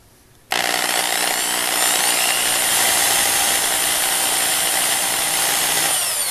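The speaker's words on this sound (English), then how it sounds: "I'm putting these screws in one at a time to avoid unintended movement." A power driver runs a screw into a Telecaster-style guitar body in one continuous whirring burst that starts abruptly and holds steady, loud and close.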